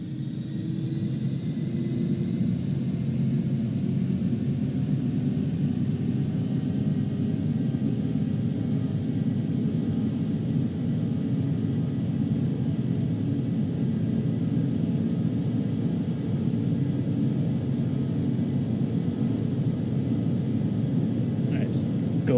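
Antonov An-225 engines at full throttle in Microsoft Flight Simulator 2020, a steady loud roaring rumble with broadband hiss that holds constant throughout without a break.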